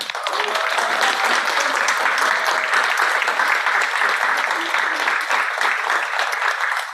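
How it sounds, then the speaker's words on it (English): Audience at an art and science symposium gives the hosts a round of applause, loud, dense, continuous clapping that fills the room for about seven seconds with a few voices faintly underneath. "So a round of applause for them"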